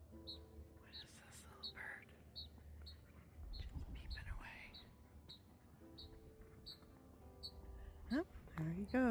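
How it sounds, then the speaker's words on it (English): A small bird peeps repeatedly in short, high, evenly spaced notes, faint against soft outdoor background in Arizona and a quiet voice. "What is this little bird? Just peeping away."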